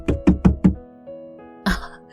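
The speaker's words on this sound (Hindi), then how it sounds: "अचानक दरवाजे पर फिर से किसी के खटखटाने की आवाज आई।" Four firm knocks on a door in quick succession, close and loud, then a pause and one more knock after a short quiet stretch, set in an audiobook love story scene.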